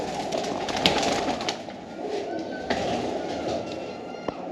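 Pigeons coo in low, soft murmurs against a steady background hum, with a few sharp clicks and taps scattered through.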